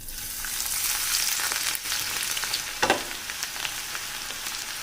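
Finely chopped garlic frying in hot mustard oil over a low flame gives a steady, close sizzle with a soft crackling hiss and a brief louder pop near the middle, with no voices.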